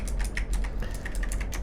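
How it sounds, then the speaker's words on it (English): Fingers type rapidly on a clicky tactile mechanical keyboard with long key travel, producing a close, steady stream of crisp clacks with no voices. "Like this keyboard."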